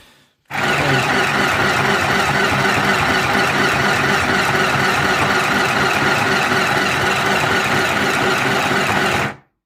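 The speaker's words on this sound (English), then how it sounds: "you see it actually sews very nicely" A mini SM-202A sewing machine runs and sews without pause for about nine seconds, its loud, even motor whir and rapid needle clatter starting and stopping abruptly, with nobody speaking.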